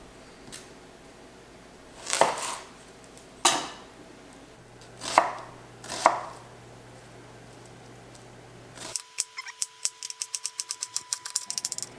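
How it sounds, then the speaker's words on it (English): Onions diced finely on a cutting board while cooking goat meat with bell peppers: four loud separate knife strokes, then a fast run of sharp, regular chops close by. "I'm gonna get to chopping these onions real quick"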